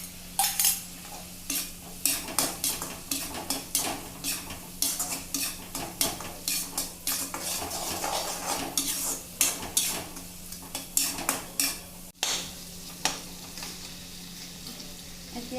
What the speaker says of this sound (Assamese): বিলাহীখিনি আমাৰ হাফ ফ্ৰাই হৈ গৈছে, এতিয়া নহৰু দুফুটমান দি দিছোঁ।